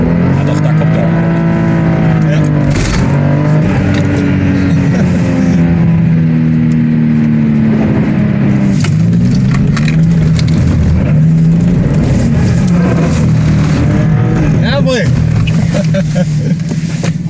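Turbocharged Lexus GS300 sedan pulls away on a test drive, its engine loud and close, the pitch climbing and dropping as it accelerates through the gears with a steady roar.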